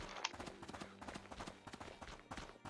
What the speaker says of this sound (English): Sound like I heard footsteps this way.